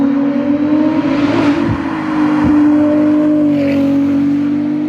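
Ferrari 296 supercar with a custom exhaust, its engine running steadily close by with a strong sustained tone and a couple of brief blips in revs, no talking over it.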